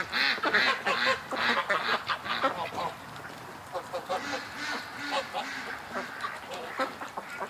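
Ducks and geese quack and honk in repeated bursts close by inside a pen, with someone talking over the birds now and then.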